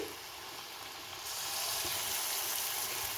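Fritters (bora) dropped into hot oil hiss and crackle steadily, the sizzle jumping louder partway through as more batter goes in, close and continuous with no speech.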